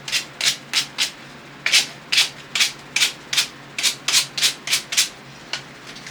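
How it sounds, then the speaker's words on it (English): Cut beadboard trim pieces are hand-sanded in steady back-and-forth strokes, about a dozen close, crisp scratchy rubs in an even rhythm with a short pause partway, alone without talk. "Need to sand them."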